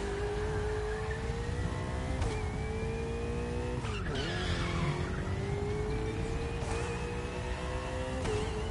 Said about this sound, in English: This car is very good at drifting.